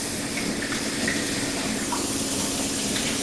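Wheat berries are rinsed in a sieve under a running tap, a steady, close rush of flowing water with no pauses and no talking.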